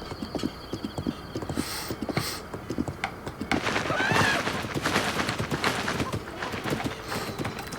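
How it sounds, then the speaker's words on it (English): Horse hooves clip-clop in a steady rhythm while riding in a Zelda video game, with a brief whinny and busier galloping footfalls in the second half, moderately loud and close. "while I was riding here on this horse here, on Zelda."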